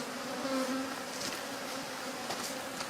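Bees buzzing around an opened beehive, a steady, dense hum of many insects close by with a few individual bees droning past, no talking.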